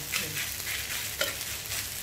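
Rice with naem (Thai fermented pork) and egg yolk sizzles and scrapes in a hot wok as it is stirred, with light rhythmic tossing and a crackling fry throughout.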